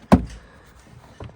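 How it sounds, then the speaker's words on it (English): A Fiat Punto rear door panel yanked off gives one sharp, loud pop-and-thud up close, followed by quiet and a softer knock near the end. "you can just yank the door panel off without a lot of pressure"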